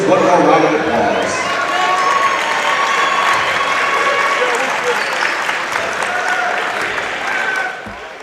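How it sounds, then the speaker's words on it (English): Sustained applause from a crowd honoring the seniors at a high school basketball senior night at Northview, loud and steady across the whole stretch before easing off at the end. "Please give our seniors one more round of applause."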